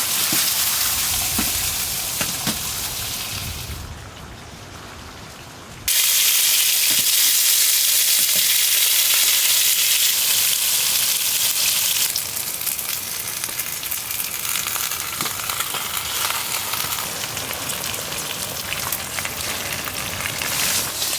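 Burgers sizzle loudly on a camping stove inside a hot tent, a close, continuous hiss that briefly drops away and then surges back, with faint scraping moments along the way.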